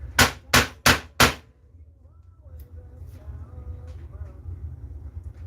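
Four sharp, evenly spaced hammer strikes on leather at a workbench ring out close by, followed by quieter shuffling and faint background sounds.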